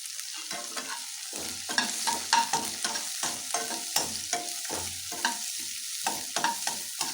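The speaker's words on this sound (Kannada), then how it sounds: "ಈಗ ಅದಕ್ಕೆ ಹಚ್ಚಿಟ್ಕೊಂಡಿದ್ವಲ್ಲ ಸಣ್ಣದಾಗಿ ಕ್ಯಾಪ್ಸಿಕಮ್, ಅದನ್ನು ಹಾಕ್ತಾಯಿದ್ದೀನಿ." Finely chopped capsicum is stir-fried in a hot pan for chicken manchurian, with a soft steady sizzle and a quick rhythm of spatula scrapes and tosses close up.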